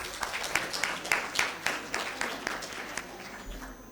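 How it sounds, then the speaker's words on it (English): An audience applauding at an inaugural ceremony of a film festival, a fairly faint crowd clapping with distinct individual claps rising and falling. "So let's welcome them with a huge round of applause."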